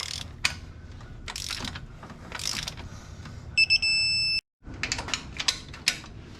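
Ratchet wrench clicking as it turns a bolt on a 2005-2010 Scion tC engine being repaired for low compression: a run of close, rapid metallic pawl clicks in bursts, with a brief steady whine partway through, then more clicking.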